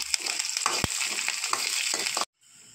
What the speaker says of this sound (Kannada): ಕರಿಬೇವನ್ನು ಹಾಕಿ ಫ್ರೈ ಮಾಡಿಕೊಳ್ಳೋಣ.